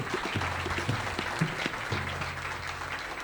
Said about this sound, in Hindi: जोरदार तालियों से हम उस खुदा को